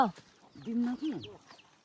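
Chickens roam loose outdoors at a rural family home in Nepal, giving a few close, tonal clucks and short squawks over about two seconds.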